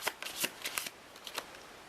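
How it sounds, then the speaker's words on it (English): A deck of tarot cards is shuffled in a handful of quick, crisp riffling bursts, close and fairly quiet, with no talking. "Keep flipping in the pack, which is quite annoying because I've got to keep digging them out"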